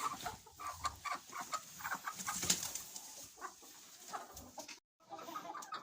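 Hens cluck softly and rustle while dust bathing in fresh ash in a poultry shed, with scattered scratching and fluttering sounds; faint and fairly close, with a brief dropout near the end.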